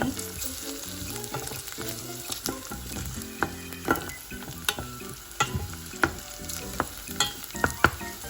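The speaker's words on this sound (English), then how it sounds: "we'll let this cook until the ginger and garlic are a little bit golden brown to get the flavor" Ginger and garlic sauté in olive oil for a spicy cassava and egg curry, giving a continuous close sizzle with regular utensil taps and scrapes against the pan and no talking.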